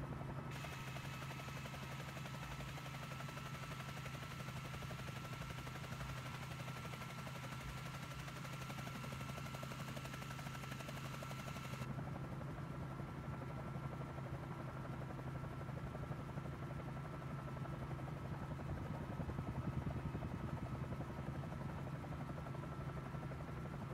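A Bell 47J helicopter in Microsoft Flight Simulator runs with a steady, even engine and rotor drone throughout, with no talk over it.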